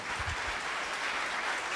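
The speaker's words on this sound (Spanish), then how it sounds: "Le vamos a dar un fuerte aplauso al Señor." A church congregation applauds together during a Spanish-language service, a dense continuous wash of clapping with no voices over it.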